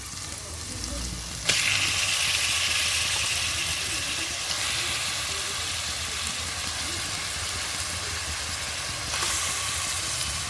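Chicken sizzles in a pan of ginger garlic paste, a steady loud frying hiss with a sharp burst as the pieces go in, continuing evenly throughout.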